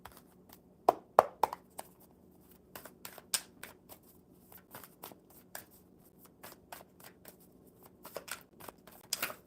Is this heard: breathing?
no